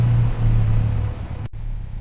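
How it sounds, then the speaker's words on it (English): A restored 1969 Dodge Charger's engine rumbles loud and close with a steady low drone as it pulls away on an open road, cutting off abruptly and then continuing at a lower level. "The engine roars as the car accelerates down the open road."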